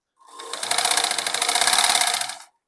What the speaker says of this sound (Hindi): थोड़ा मार्जिन देके सिलाई स्टार्ट करूँगी